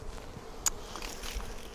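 Honeybees hum in a soft, steady drone around an opened, queenless Flow Hive, with one brief tick standing out against the buzzing.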